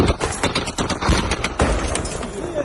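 Air defense gunfire near Kyiv as a battalion shoots down Shahed drones: a rapid, dense burst of overlapping cracking shots, loud and close, with a brief voice or two mixed in.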